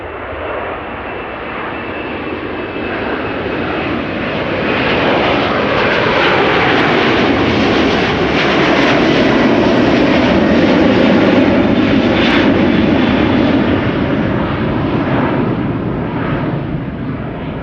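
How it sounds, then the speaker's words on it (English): Business jet taking off from runway 22 at Amsterdam Schiphol, a loud steady engine roar that swells to a broad rumbling peak mid-clip and slowly eases as it climbs away, with no talking. "a BizJet in the meantime was taking off from runway 22"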